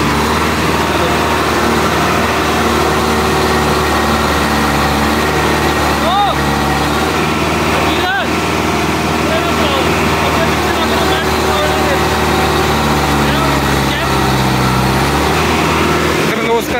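A tractor fitted with an original Kirloskar engine runs steadily, a loud, continuous diesel drone with a few brief clanks, close to the listener throughout.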